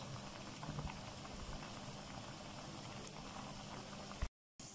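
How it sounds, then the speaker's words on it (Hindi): Cauliflower pakoras deep frying in hot oil, a steady dense bubbling sizzle that holds evenly throughout before a brief cut to silence near the end. "खूब फ्राई हो रहे हैं ये"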